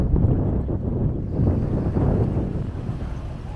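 Broad, steady wash of surf on a sandy ocean shore on a tropical island, a continuous low roar mixed with heavy wind buffeting the microphone, no voices.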